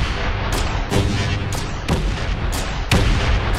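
Rockets fire from a ship in the Space Engineers video game, six loud booming launches in an uneven rhythm over a constant roaring rumble, close and alone with no talking.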